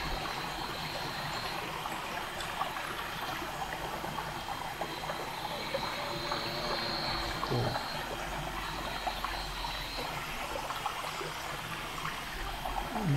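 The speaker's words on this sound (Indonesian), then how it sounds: "Di sini ada sebuah aliran sungai." A river stream flows steadily in a remote spot, with a constant broad rushing wash that runs the whole time and does not let up.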